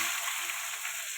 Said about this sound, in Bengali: আলু আর কচুটা একটু ভালো করে ভেজে নেব